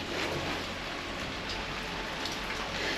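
Steady light rain falling, a continuous soft patter and hiss with no voices.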